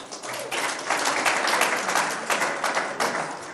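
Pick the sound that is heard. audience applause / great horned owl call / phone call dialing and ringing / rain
audience applause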